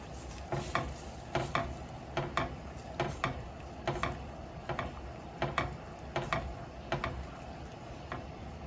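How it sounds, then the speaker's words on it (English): Spoon stirring capers into chicken piccata sauce in a pan, rhythmic scraping clicks against the pan repeating about twice a second, quiet and close over a faint sizzle. "You wanna kind of stir this all together."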